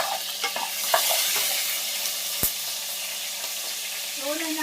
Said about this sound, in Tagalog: una natin to iprito yung ating potato